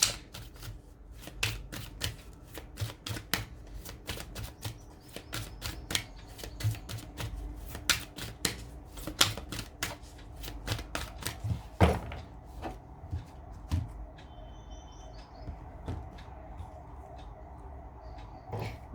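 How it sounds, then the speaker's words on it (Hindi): Sai Baba oracle cards shuffled by hand, a steady run of soft riffling and tapping clicks that continues close up for the whole stretch, with small thumps of the deck and no talking. "साथ में हम आपके लिए एंजल गाइडेंस ले लेते हैं साईं बाबा ऑरेकल कार्ड से"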